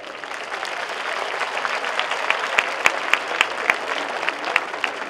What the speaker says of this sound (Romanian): vă rog să aplaudăm așa de bun venit